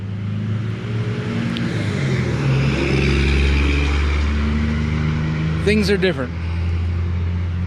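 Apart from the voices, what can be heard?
Troy-Bilt tiller engine revving with throttle opened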